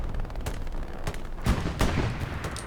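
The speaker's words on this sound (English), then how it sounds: "The rattle of the MG42s in the background" Distant gunfire in Hell Let Loose, with MG42 machine guns rattling in the background of a competitive match. Scattered sharp bursts and booming reports land at irregular moments, some heavier, over a constant battlefield rumble, with no talk.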